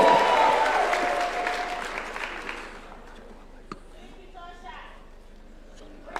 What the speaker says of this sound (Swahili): Wapi makofi ya Aaron Cheruiyot, leader of majority?